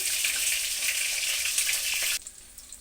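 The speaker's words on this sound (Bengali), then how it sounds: "এগুলো হলো চিকেনের দানা ওগুলো এখন ফ্রাই করে নিচ্ছি" Chicken pieces sizzle and crackle steadily in hot oil in a home kitchen pan, a loud dense frying hiss that drops off sharply near the end, leaving quieter spitting.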